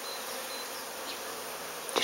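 Honeybees on their first spring flight at a hive give a steady, diffuse buzzing of many wings, moderately close and continuous, with a brief louder pass at the very end.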